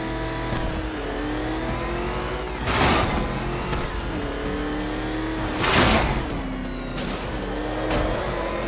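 The Batmobile engine in Batman Arkham Knight drones with a steady, harmonic-rich hum, surging into three loud revving bursts at regular intervals before falling back to a sustained tone.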